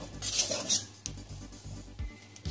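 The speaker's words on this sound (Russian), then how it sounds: "а можно очень быстро несколько раз пройтись венчиком" Orange sponge cake batter whisked in a bowl, a few quick close strokes with rhythmic taps and clinks of the whisk against the side.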